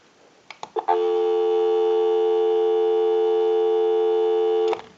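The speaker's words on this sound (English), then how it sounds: "Give you some dial tone." A few brief clicks and tones from a Western Electric 354 rotary wall telephone give way to a steady, unbroken dial tone that holds for several seconds before cutting off.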